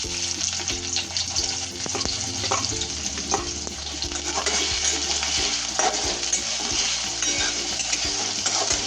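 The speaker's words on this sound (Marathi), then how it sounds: "मी तेल तापलं, आता कांदा टाकून घेते" Chopped onion fries in hot oil in a sustained close sizzle, with repeated spatula stirs and clinks against the pan, and no talking.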